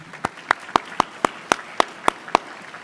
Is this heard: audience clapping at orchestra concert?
yes